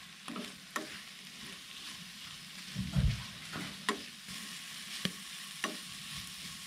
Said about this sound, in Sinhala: මට්ටි ෆ්‍රයිඩ්.